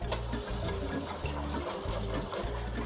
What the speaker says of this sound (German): So, unser Wasser kocht schon.